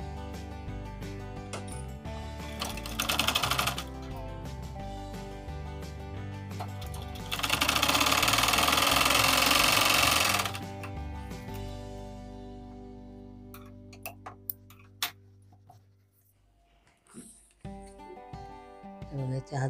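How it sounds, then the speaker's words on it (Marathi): A sewing machine runs in two short bursts while stitching a puff sleeve, a close whirring rattle of needle strokes, followed by quieter clicks and handling noises of the fabric. "हे बघा अशी उलट एक टिप मारायची"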